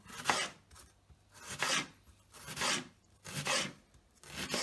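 A knife chops through an onion on a board in about five rhythmic, rasping strokes, evenly spaced and close, with no talking.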